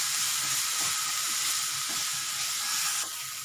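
Vegetables seasoned with salt and crushed black pepper fry over a gas flame in a pan, a steady loud sizzle and hiss running throughout, with faint stirring scrapes beneath and no talking.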